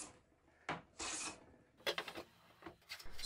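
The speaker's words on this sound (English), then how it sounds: "I planed them flat and smooth" A hand plane is pushed across thin quarter sawn oak drawer bottoms in a quiet workshop, several short rasping strokes in an uneven rhythm, close and fairly soft.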